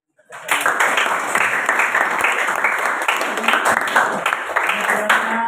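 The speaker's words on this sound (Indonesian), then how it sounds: "Mari kita tutup dengan tepuk tangan." Loud, lively applause from a class audience closing a machining-technique learning session, starting abruptly and continuing as a dense, even patter of many hands throughout, with voices faintly mixed in.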